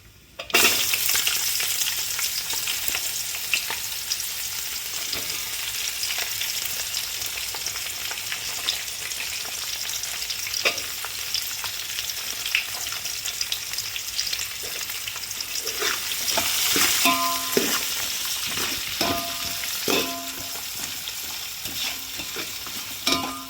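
Sliced onions with fried cashews and green chillies sizzle in hot oil for chicken biryani, a continuous close crackle with intermittent spoon scrapes and clinks against the pan, busier toward the end.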